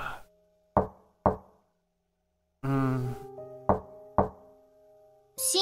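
A door in the visual novel Sakura no Mori Dreamers is knocked on in two pairs of crisp raps, separated by a tonal sung or voiced passage, with a chime-like sound between and a burst of noise at the end.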